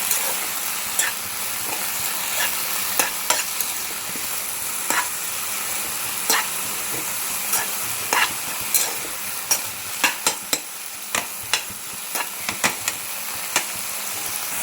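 Fresh mint leaves being stirred in hot oil in a pan for pudina chutney, a steady sizzle with repeated sharp scraping clicks of the spoon, close and alone with no talk.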